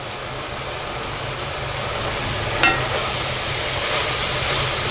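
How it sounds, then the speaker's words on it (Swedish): Meat juices boil hard in a pan on a roaring wood-fired stove, giving a steady close sizzle and bubbling hiss with a faint low rumble under it and one brief sharper crackle partway through, no speech. "Men nu är det ju full fräs i vedspisen, så att nu kokar det."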